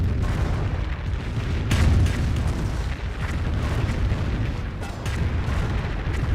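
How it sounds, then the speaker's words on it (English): A Calliope rocket barrage in the Company of Heroes video game rumbles as a continuous, heavy stream of booming explosions and blasts, sustained and loud with no voices over it. "Calliope rocket barrage running on in."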